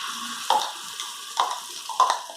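Chili sauce paste spatters in hot oil in a pan, with a steady sizzle and three sharper bursts of stirring and frying.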